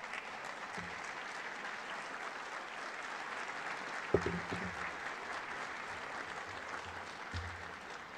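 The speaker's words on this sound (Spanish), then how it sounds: "Seguramente el que empezó a aplaudir es becario nuestro" Applause from a lecture audience at a university chair conference in Ecuador, a soft, steady patter of clapping heard from a distance, with a few low thumps partway through.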